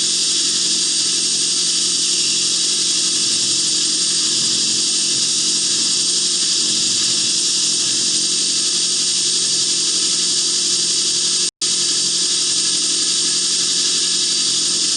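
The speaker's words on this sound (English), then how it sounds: "I ground the tip. Now I'm grinding the flat, and then I'll grind the ricochet area next." A knife blade bevel pressed to a grinder gives off a steady, loud, high-pitched abrasive hiss that runs continuously and cuts out for an instant near the end.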